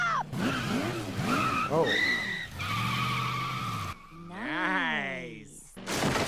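Cartoon car skidding as it spins donuts with a drunk driver, tire squeal sweeping up and down with engine tone between bursts of excited voices.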